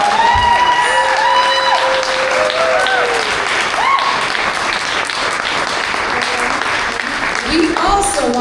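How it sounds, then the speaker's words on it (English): An event audience gives sustained applause, dense clapping under crowd chatter and a few brief cheers, holding at a steady loud level across the whole stretch. "can we please give them a long round of applause?"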